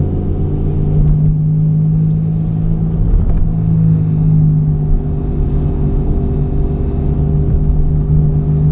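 A car driving on roads in the United Kingdom gives a steady, close interior engine rumble with a constant low drone and slight shifts in tone throughout, with no talk.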